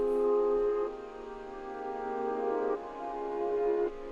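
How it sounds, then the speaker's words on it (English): Reversed piano tones swell upward and cut off abruptly, three sustained chords in a row at moderate loudness, alone in a studio production. "And I also added in a piano, but I reversed it, so it sounds like this."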